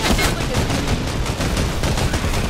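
Dense, loud gunfire in a zombie shooting video game, rapid overlapping shots like a sustained fusillade filling the whole stretch, with some voices under the din.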